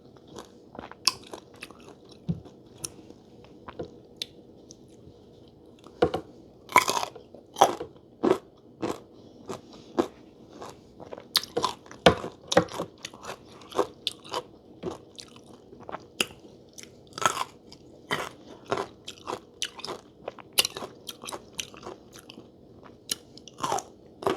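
Crunchy pickled young green mango is bitten and chewed close up, with sharp crisp crunches repeating irregularly over steady wet chewing, and no talk.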